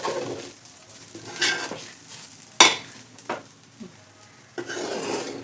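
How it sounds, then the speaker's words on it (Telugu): Mint rice with lemon juice stirred in a pan after the stove is switched off: scraping spoon strokes, a sharp clank of metal on the pan, and soft sizzling rustles, close and without speech. "ఇప్పుడు స్టవ్ ఆఫ్ చేసి కలుపుకుందాము."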